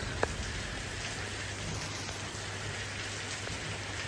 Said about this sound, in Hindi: अभी देखिए कितनी मस्त बारिश हो रही है